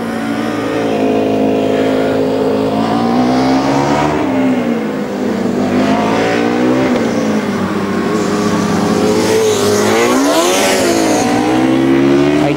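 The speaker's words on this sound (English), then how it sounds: "So here come Constance, car 34." Formula Student race cars roar past at speed during an endurance race, engines rising and falling in pitch as they sweep by, loud and close, with one passing after another.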